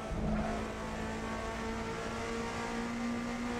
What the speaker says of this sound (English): I'm gonna blow this bloody engine